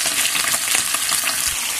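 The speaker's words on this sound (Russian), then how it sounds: "выкладываем и обжариваем хорошо" Chicken thighs sizzle and crackle steadily in a hot pan over medium heat, a dense close-up frying hiss with faint scraping.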